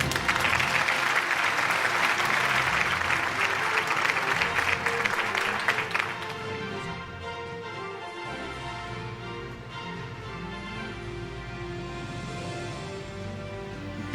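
An audience at an annual television news award show bursts into sustained applause, a dense wash of clapping that fades after a few seconds into lighter scattered claps under background music.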